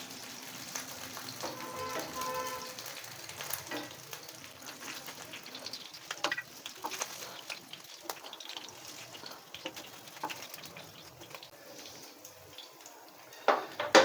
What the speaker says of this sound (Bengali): সেমভাবে আমি বাকি মাছগুলোকেও ভেজে নেব।